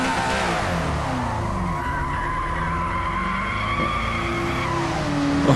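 Tyres skid and squeal on a Lotus Esprit racing at Spa in Forza Motorsport, a long continuous screech with a sustained tonal whine over steady engine roar, loud and close throughout.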